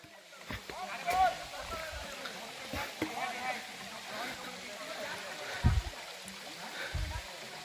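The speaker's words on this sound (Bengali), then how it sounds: "এ হচ্ছে আমাদের হামহাম ঝর্ণা।" Ham Ham waterfall stream in Sylhet, Bangladesh, heard as a steady wash of flowing water in the background, with people talking over it and a few footsteps or knocks close by.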